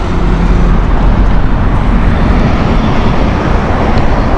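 A Finnair airliner coming in to land at Heathrow Airport, a loud, steady broadband engine roar that fills the whole stretch without letup, close and continuous, with no voices.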